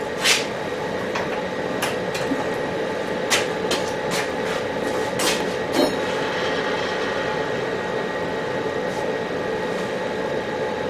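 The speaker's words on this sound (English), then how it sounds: "chamfering the hole" A steel mini vise base being chamfered at a drilled hole on a lubricated machine: a steady whirring hum with a constant tonal whine and scattered sharp clicks and ticks, alone and close.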